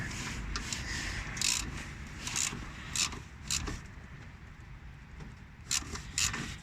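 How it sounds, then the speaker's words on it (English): Ratchet tightening front brake bolts on a 2006 Volkswagen Polo 1.4 TDI, heard as quiet scraping bursts and faint mechanical clicks in short irregular spurts over low background noise. "And then tighten them up with a ratchet."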